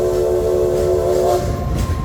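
Steam train whistle at Silver Dollar City, a sustained loud tonal blast with rumbling rail noise underneath, steady for a couple of seconds.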